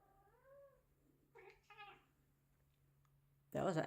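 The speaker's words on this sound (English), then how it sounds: "That was an actual meow." A cat gives a couple of faint, soft meows in a quiet room, with a low steady hum beneath and a sudden loud burst of noise at the very end.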